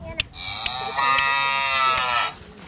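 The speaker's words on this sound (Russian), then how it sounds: "Корова." A cow gives one long, loud moo that holds steady for a couple of seconds before trailing off, with a few faint knocks around it.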